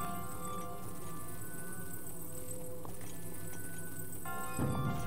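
Horse hooves clip-clop in the Zelda: Breath of the Wild video game, a steady rhythmic trot under a continuous musical background, moderately loud and without talk.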